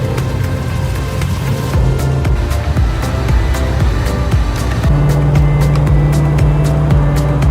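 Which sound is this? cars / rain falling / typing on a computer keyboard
cars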